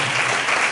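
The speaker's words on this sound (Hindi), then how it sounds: "ताली बजाओ" A church congregation claps hands together at a Hindi-language worship service, a dense, steady roar of many overlapping claps filling the whole moment with no voices on top.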